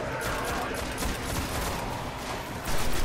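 Sustained gunfire exchange in the Destiny game, fighting among Fallen enemies inside the Hellmouth, a dense steady crackle of shots running throughout and swelling louder near the end.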